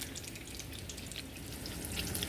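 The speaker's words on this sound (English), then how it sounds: "Gonna go ahead and flip our Wagyu burgers over." Wagyu burgers sizzle and crackle in a hot pan on a stovetop as they are flipped, giving a steady, dense hiss with fine popping spatter throughout and no voices.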